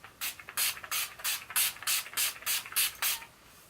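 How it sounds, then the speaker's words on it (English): Urban Decay makeup setting spray misted onto a face in about nine quick pump bursts, each a sharp airy hiss, close and evenly spaced, with no talking. "this is the Urban Decay setting spray"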